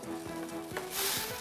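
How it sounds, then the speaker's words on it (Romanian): Bacon sizzling in a dry pan with no oil, a steady close crackle and hiss with a few soft clinks, swelling louder toward the end; no talking. "Noi punem baconul frumos, va prăji"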